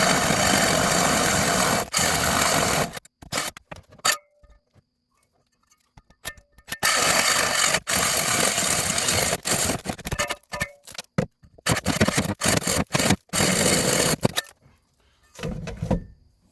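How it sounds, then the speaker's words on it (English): Aggressive drill bit chewing through three layers of gummy roof shingles in loud, close bursts of grinding, broken by short pauses and a longer gap midway, with no talking. "This is a pretty aggressive drill bit."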